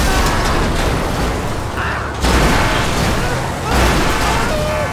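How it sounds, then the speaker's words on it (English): Dense, roaring bursts of booming blasts from cars exploding in Grand Theft Auto 5 crowd together in a loud, continuous barrage, one explosion rolling into the next with no quiet gaps. "Now just watch the fun as we count the explosions."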